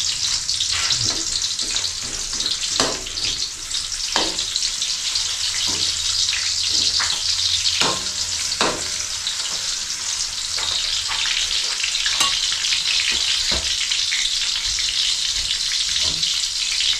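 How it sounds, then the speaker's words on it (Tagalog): Onion and ginger sauté in a pan with a steady, bright sizzle that continues throughout, punctuated by occasional knocks and stirring sounds. "Igisa ko muna yung sibuyas."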